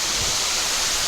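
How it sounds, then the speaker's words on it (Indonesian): Curug Ngesong, a waterfall on the western slope of Mount Telomoyo, roars as a steady, dense rush of falling water, loud and close with no voices over it. "Oke, kita sudah sampai teman-teman, Curug Ngesong atau air terjun Ngesong."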